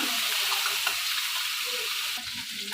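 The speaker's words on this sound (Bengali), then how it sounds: "আমি লাউয়ের খোসা আর আলু কুচিটা দিয়ে দিলাম" Bottle gourd peel and chopped potato frying in a pan, a dense, even hiss of hot oil that holds steady throughout, close and fairly loud, with no talk.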